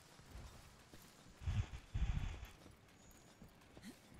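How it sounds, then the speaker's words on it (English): Heavy monster footsteps in Monster Hunter World, a few low thudding stomps at a distance, faint and irregular, rising briefly in the middle of the stretch over quiet ambient background. "I hear something stomping."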